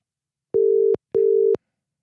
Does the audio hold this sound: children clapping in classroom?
no